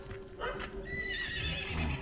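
A Cremello horse on a farm gives a loud, close neigh that rises and wavers, with rustling and a faint voice in the background.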